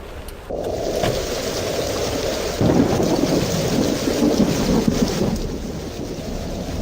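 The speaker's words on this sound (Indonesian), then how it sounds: "kami menyaksikan hujan angin yang sangat kencang." Heavy rain pours steadily with rumbling thunder and gusting wind, a dense continuous roar close by with no voices.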